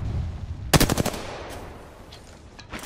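Video game gunfire: a close, loud burst of rapid automatic shots followed by fainter distant shots over a steady background rumble, with no talk.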